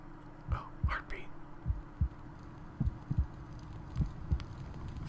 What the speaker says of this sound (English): Oh, heartbeat.